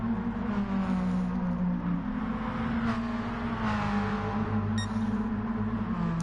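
A drift car's engine in Gran Turismo Sport, racing at Alsace, drones loud and steady with a rich, rising-and-falling pitch as it holds revs, with no voices over it.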